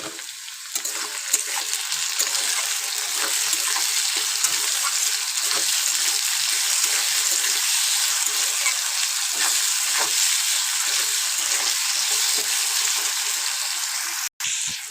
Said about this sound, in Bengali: লবণ দিয়ে খুব ভালো করে ভাজবো